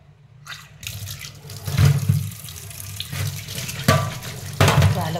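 Running tap water splashes steadily into a sink while tilapia fish are rinsed under it, a continuous close gush with a few louder splashes as the fish is handled.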